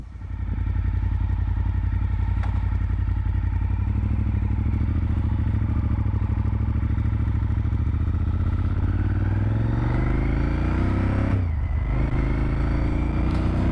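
A Honda RC51 V-twin sport motorcycle runs steadily under a ride, its loud, throbbing engine close and continuous, pitch shifting with throttle changes toward the end, with no talking.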